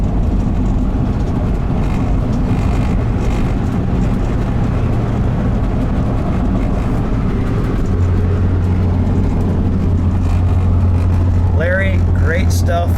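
A 1967 Chrysler Town & Country station wagon, a gold survivor car, cruises along with a steady low road and engine rumble from inside the cabin, with people talking over it.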